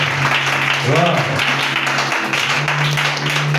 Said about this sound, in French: Acclame encore, acclame.